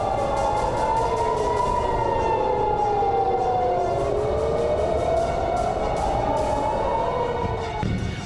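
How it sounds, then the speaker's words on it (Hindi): Air raid sirens wailing during an Iranian missile attack on Israel, several overlapping sirens rising and falling slowly in pitch, loud and sustained over a constant rumbling background. "फिजा में गूंजती सायरनों की आवाज।"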